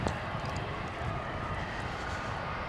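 An airliner at DFW International Airport roars steadily at a distance, a continuous broad engine rush that stays even and fairly faint throughout with no talk over it.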